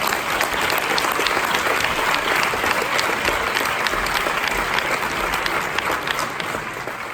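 Sustained, dense applause from an audience at a summer camp seminar, steady and loud throughout with no talk over it.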